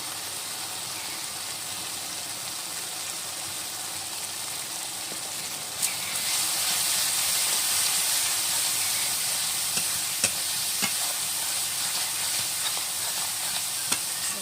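Chilli and cumin powder masala frying in a pan for a katla fish head kalia, a steady sizzling hiss that grows louder midway, with occasional sharp clicks of a spatula stirring it, close and without talk.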